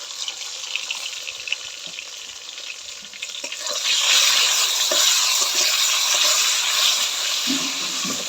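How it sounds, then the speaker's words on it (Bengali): Potato and eggplant pieces fry in oil in a pan, a quieter sizzle at first that swells into a loud, steady crackling hiss, with occasional stirring scrapes. "এবার আলু বাগুনটা ভালো করে বাইজে নেবো"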